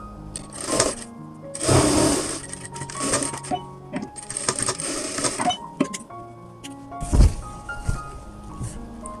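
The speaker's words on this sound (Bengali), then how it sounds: "এই সেলাইটা এই পর্যন্ত নিয়ে এসে টাক দিয়ে আবার এখান থেকে ফাঁক রেখে আবার এখান থেকে টাক দিয়ে শুরু করতে হবে" A sewing machine stitches churidar pyjama fabric in several short bursts with clicks and handling of the cloth between them, and a louder knock near the end, with no clear talk.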